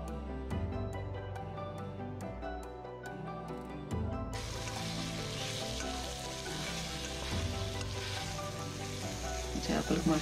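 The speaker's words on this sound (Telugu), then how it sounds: "చేపలకు మసాలా అనేది బాగా పడుతుంది ఇలా 2 మినిట్స్ మనం ఫ్రై చేసుకోవడం వల్ల" Bommidalu fish frying in masala in a pan, a steady close sizzle that grows brighter and busier partway through as the pieces are stirred, with music playing underneath.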